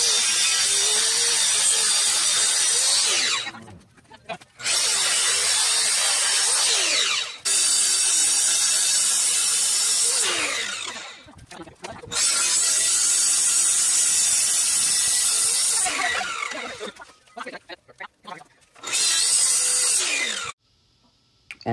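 A power saw cuts through a spalted maple and epoxy tabletop in several long, loud passes, each separated by short quiet gaps as the blade stops.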